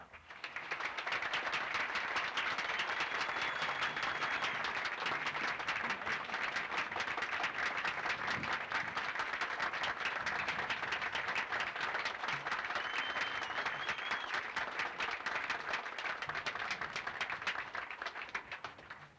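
Sustained applause from a large audience at the 1981 University at Albany commencement, a dense, even roar of clapping that rises quickly and continues steadily for nearly twenty seconds, heard somewhat distantly.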